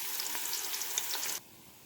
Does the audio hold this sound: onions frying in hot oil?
yes